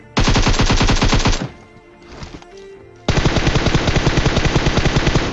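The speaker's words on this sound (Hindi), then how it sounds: "इतनी देर में जो है मैं फायर कर देता हूँ" Automatic gunfire in the mobile battle game PUBG Mobile, two loud sustained rapid bursts separated by a short lull with faint rustling, heard close and alone.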